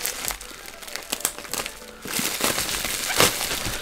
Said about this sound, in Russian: Аккуратненько вскрываем.